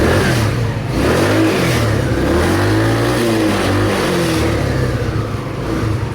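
A Rusi Rapid 150 motorcycle engine running up close, loud and steady, with the pitch rising and falling as it is revved several times.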